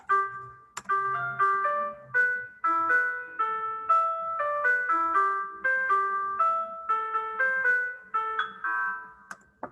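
A simple electronic melody of plinky, chime-like notes plays at an even, steady pace, each note decaying quickly, moderately quiet with no voices.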